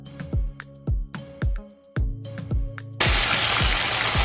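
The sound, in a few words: onions poured into hot frying oil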